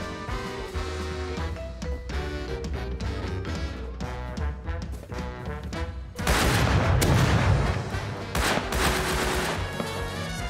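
Shotgun traps fire in the survival game Rust, several booming gunshot bursts that erupt suddenly and loudly after a stretch of quieter game noise, with dense, overlapping blasts for a couple of seconds.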